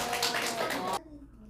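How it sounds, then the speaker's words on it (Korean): Audience clapping at a Korean workshop on conflict resolution and communication, a dense burst of claps for about a second under a busy room with talk, then cutting off to quieter murmuring. "박수 한번 보내주세요."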